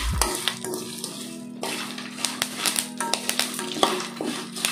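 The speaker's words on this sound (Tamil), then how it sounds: "கருவேப்பிலை பார்த்தீங்கன்னா பொடி பொடிக்குது" Curry leaves splutter and pop in hot oil in a pan while Tamil-style puffed rice is cooked, a close, steady frying hiss broken by sharp crackles and stirring scrapes.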